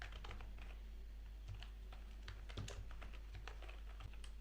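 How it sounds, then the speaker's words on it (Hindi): Data typed into an Excel spreadsheet on a computer keyboard, a steady run of light, quick key clicks at moderate distance over a constant low hum, no speech. "डेटा टाइप करता हूँ"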